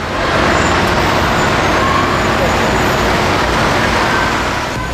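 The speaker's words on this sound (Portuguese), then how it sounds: "O som rotineiro de um trânsito difícil de controlar." Dense, continuous roar of heavy city traffic on Djalma Batista avenue in Manaus in late afternoon, cars, buses and trucks blending into a loud, unbroken rumble.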